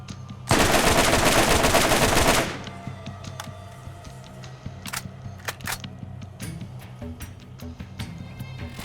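A combat rifle in the Borderlands video game fires a loud, sustained automatic burst for about two seconds, followed by scattered clicks and clatters of game action.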